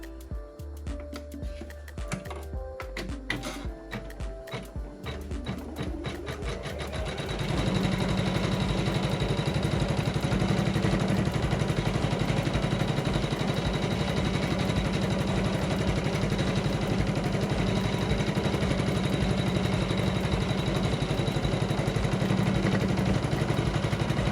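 A Janome 500E embroidery machine stitches a tack-down line on an in-the-hoop Christmas ornament, starting with uneven clicks and hum, then a steady fast mechanical whirr that runs on continuously without talk.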